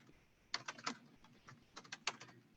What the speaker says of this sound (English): And I'm going to type these out here.